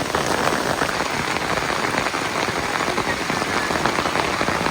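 Steady, loud rain falling on a surface outdoors, dense and continuous with no talk, a close, even hiss of many drops throughout.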